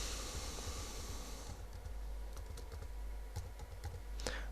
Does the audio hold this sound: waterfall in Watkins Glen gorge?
no